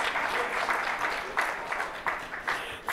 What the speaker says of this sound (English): So give them all a nice round of applause so they go and sit back down.